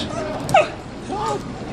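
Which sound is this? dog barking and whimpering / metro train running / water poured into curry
dog barking and whimpering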